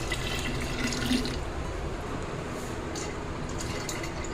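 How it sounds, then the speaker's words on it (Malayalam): Boiled, cooled water pours steadily into a container for making pineapple wine, a soft continuous splashing and trickle at moderate level with no talking. "ഇനി നമ്മൾ തിളപ്പിച്ച വെള്ളം ഒഴിച്ചു കൊടുക്കുക"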